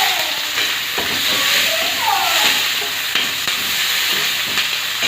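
Chopped onions drop into hot oil already holding fried dried red chillies and whole cumin, for a shol fish curry; a steady, close hiss and sizzle with faint stirring clinks.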